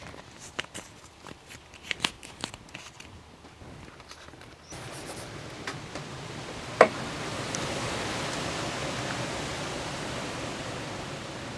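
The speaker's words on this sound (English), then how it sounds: "we've had a proper storm going on" Storm rain falls in a garden outside a greenhouse. A few scattered taps and knocks come first, then steady hissing rain starts midway and continues evenly to the end, with one sharp knock.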